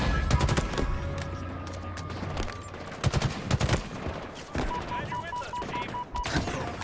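Rapid gunfire rattles in bursts during a Halo Infinite campaign battle at Legendary difficulty, with sharp cracks and automatic fire. A player talks over the shooting.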